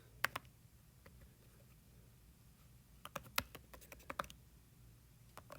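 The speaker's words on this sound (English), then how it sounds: "So go ahead and type the words protons" Typing on a computer keyboard while entering words into a spreadsheet, sparse soft key clicks early, then a quicker burst of sharper taps, faint and close in a quiet room.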